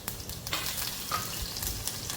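Garlic and green chillies fry in a hot oil tempering for semolina sanja, a steady close sizzle and crackle with a few stirring scrapes and no talking.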